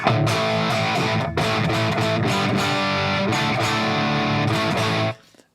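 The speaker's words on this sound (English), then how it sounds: "I normally switch to the boost of the amp, which sounds like this." A loud, overdriven electric guitar through an amp's boost channel strums crunchy chords for several seconds, then cuts off abruptly into a brief fading ring.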